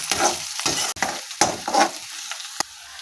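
Ginger-garlic paste and green chili sauté with onion in a pan for a dhaba-style potato and pea curry, giving a lively, close sizzle broken by repeated scraping stirs of a spoon.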